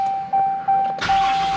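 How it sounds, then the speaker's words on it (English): A steady electronic chime beeps, then a truck engine cranks on a push-button start and catches, settling into a close, rumbling idle. "So we'll start with starting up the truck"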